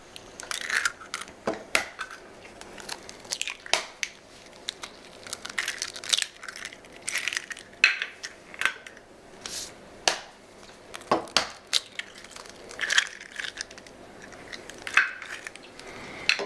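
Eggs are cracked one after another into a bowl of minced meat for a homemade terrine, giving sharp, close cracks and taps at irregular intervals with soft wet handling sounds between them.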